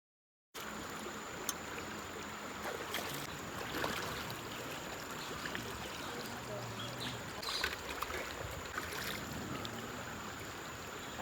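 Forceful water rushes in a steady, dense roar at a Pitru Paksha pinda pradhana ritual, starting after a brief silence and continuing without a break.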